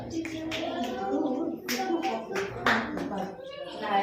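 Children at a Sunday school clap their hands in a loose, uneven rhythm along with a song, sharp claps mixing with singing voices close by.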